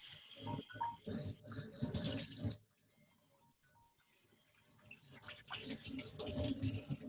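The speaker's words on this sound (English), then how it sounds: "Now I'll rinse." Running tap water splashes over hands being rinsed at a sink, a steady close rush that drops away briefly in the middle before swelling back, with faint voices mixed in.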